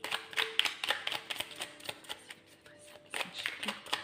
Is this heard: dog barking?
no